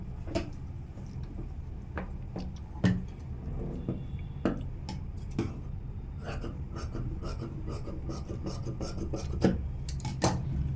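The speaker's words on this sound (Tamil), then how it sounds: "அதுக்கு மட்டும் நான் ஃபால்சன் வெட்டிக்கிறேன்" Fabric scissors snip a fall strip for a princess-cut blouse, giving a run of sharp, close, irregular blade clicks and rasps over a quiet room with no talking.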